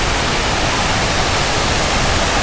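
A waterfall inside the Nang Aen swallow cave in Khammouane, Laos, fills the space with a loud, constant broadband rush of falling water, with no voices over it.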